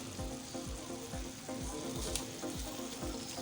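Fish fries in a pan with a steady, loud sizzle, and a utensil scrapes and taps the pan in an even rhythm of about two strokes per second.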